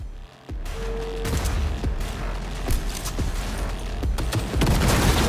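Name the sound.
thrown grenade exploding in video game Cyberpunk 2077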